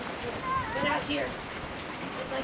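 Wet slushy mix of rain and snow falling on a homestead, a steady broadband patter with faint voices murmuring underneath.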